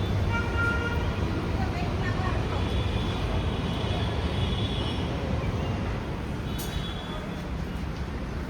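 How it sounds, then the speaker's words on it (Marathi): A metro train running on its line, a steady loud rumble and rattle that fills the whole stretch, with a faint high tone near the end and no talk heard. "चला चला आता मेट्रो लाईन चाललेली आहे."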